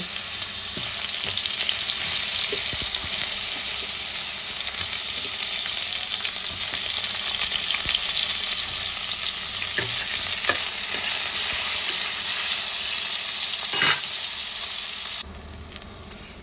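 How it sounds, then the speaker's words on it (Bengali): Pieces of eggplant fry in oil left over from cooking fish, giving a steady, dense sizzle from close by, with a few stirring clicks and no voices, before it drops quieter near the end. "এই মাছের তেলের মধ্যেই আমি বেগুনগুলোকে ভেজে নেব"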